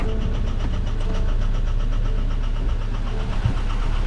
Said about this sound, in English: all of a sudden, Marissa and I heard the engine started knocking really badly, and we lost oil pressure